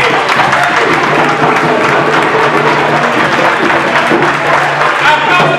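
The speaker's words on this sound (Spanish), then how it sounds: "Aplauso para su lado" Sustained, dense audience applause at a candombe music performance in Uruguay, loud and close, with crowd noise and a voice faintly under the clapping.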